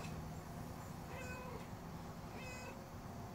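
A house cat meows twice outdoors in the dark at feeding time, short and faint, spaced about a second apart over steady background noise.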